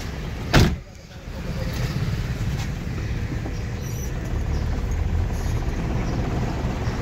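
A car pulling out during a light-vehicle driving test, its steady low engine rumble running close and continuous after a brief knock at the start, with no talk.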